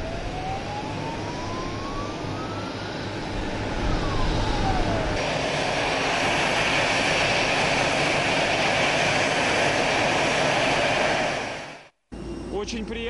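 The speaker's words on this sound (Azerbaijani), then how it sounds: "Moskva-Lənkəran-Moskva reysi ilə hərəkət edən ilk təyyarə Lənkəran beynəlxalq aeroportunda" A passenger airplane arriving on the first Moscow–Lankaran flight at Lankaran International Airport, its loud, steady jet engine roar filling the scene close by before cutting off abruptly near the end.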